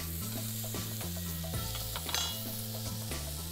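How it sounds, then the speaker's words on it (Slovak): Tuna is seared over high heat on a grill pan drizzled with olive oil. It gives a soft, continuous sizzle beneath steady tonal background sounds. "Tak a tuňaka grillujeme z prúdka."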